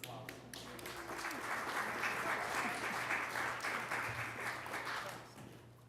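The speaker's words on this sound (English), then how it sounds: "give him another round of applause" Audience at a city council meeting applauds steadily in a dense, moderately distant wash of clapping that swells and then slowly fades.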